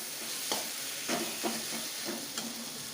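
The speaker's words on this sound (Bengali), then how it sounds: "একটু ধিমি আঁচে মশলাটা আমি কষে নেব।" Tomato, salt and half a capsicum cook into a spice masala in a pan over low heat for mutton curry, giving a steady soft sizzle broken by several sharp scraping stirs at irregular intervals.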